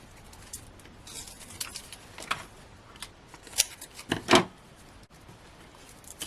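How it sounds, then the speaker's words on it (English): Scissors snipping card during a cardmaking session, a few short crisp cuts around the middle and end, fairly quiet with faint rustling of paper in between. "Scissors."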